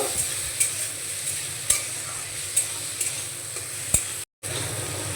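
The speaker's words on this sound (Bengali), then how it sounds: "এখন এর মধ্যে দিয়ে দেব গ্রেট করে রাখা কাঁচা আম। ভালো করে নাড়াচাড়া করে মিশিয়ে নেব।" Grated raw mango being stirred into fried curry leaves in a pan, with a soft, steady sizzle and a few spoon scrapes against the pan, no talking.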